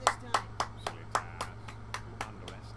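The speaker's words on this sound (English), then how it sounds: "We're going to give a round of applause to Dylan" A single person claps slowly and sparsely, about ten separate, evenly spaced claps over a low steady hum during a late-night stream.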